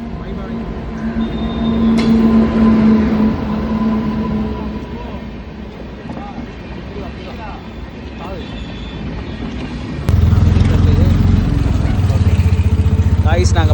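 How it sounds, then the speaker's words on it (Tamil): A train passes near Varkala with a steady rumble and rolling wheel noise, growing heavier and louder toward the end, while people talk over it. "ட்ரெயின் பாருங்க போகுது."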